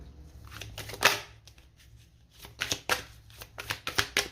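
Oracle cards from the Inner Star deck being shuffled by hand, a few soft riffling bursts and slaps spaced across a quiet moment, close and moderately loud with no talking.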